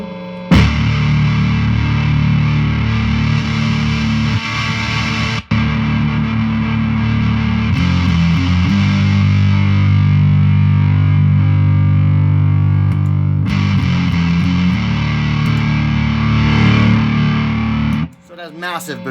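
An electric guitar plays through a handmade Southwest Terror Mega Doom Fuzz pedal, thick, heavily saturated chords ringing out loud and sustained for most of the passage before cutting off abruptly near the end.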